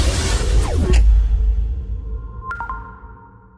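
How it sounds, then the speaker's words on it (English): A Kia e-Niro electric car gives its low-speed pedestrian warning tones, a swelling electronic hum with a brief whooshing sweep followed by soft pinging tones that fade away, heard up close with no talking. "And so starts the calming tones of the Kia E Niro."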